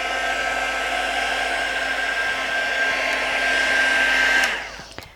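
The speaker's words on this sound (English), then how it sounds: "we'll use my heat gun to dry that off" A heat gun drying a paper collage, giving a loud, steady, close whirring blow that holds for several seconds and then winds down as it is switched off.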